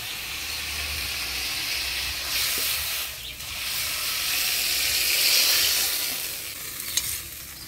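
Shrimp fry in hot oil in a pan: a loud, continuous sizzle and hiss close by, swelling slightly midway, with occasional stirring and no talk.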